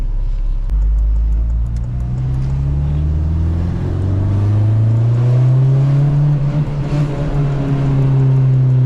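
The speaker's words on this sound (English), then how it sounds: "This car sounds so good." Loud, close Honda Civic Si engine running and revving, a deep droning rumble rising and falling in pitch as it accelerates, with no talking.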